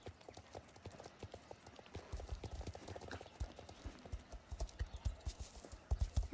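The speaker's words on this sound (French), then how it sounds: "un gros cheval qui se déplace" Heavy draft horse hooves clip-clop at a steady walking pace, close and clear, growing louder toward the end over a faint background murmur.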